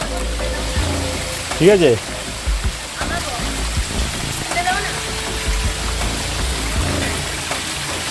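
Water streams down through jungle in Tripura, a steady rushing hiss close by, with a voice speaking over it.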